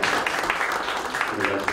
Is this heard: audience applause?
yes